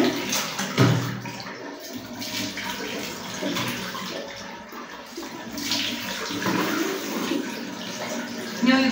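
Water runs steadily and fairly loudly from a tap while a face is washed, with splashes and shifting flow throughout.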